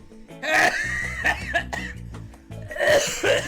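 A single person coughs loudly several times in a harsh, wet burst, followed after a brief pause by another round of coughing, close to the microphone with no talking.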